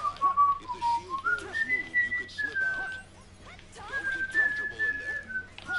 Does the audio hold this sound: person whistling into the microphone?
yes